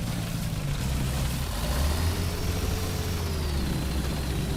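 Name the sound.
tank engine sound from a video game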